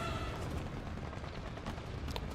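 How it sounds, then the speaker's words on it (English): Dense, continuous gunfire from the video game Punishing: Gray Raven, a loud overlapping barrage of shots and blasts with no pauses. "Sounds of gunfire and human chords fill the air."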